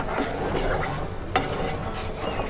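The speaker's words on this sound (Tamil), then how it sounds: "சிம்லேயே வச்சுட்டு நல்லா கலந்து விட்டுட்டே இருங்க." A utensil stirs sugar syrup for Tirunelveli halwa in a pan on the stove, making continuous scraping and swishing close up, with a sharp clink from the pan partway through.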